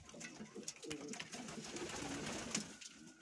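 Pigeons coo softly at close range in a loft, a steady murmur of low calls with light rustling and faint ambient noise throughout.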